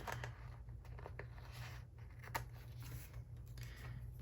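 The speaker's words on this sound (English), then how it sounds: "And then I will trim this with my scissors." Scissors trimming a paper sticker sheet at a craft table, a few quiet snips and papery rustles, faint and close with no talking.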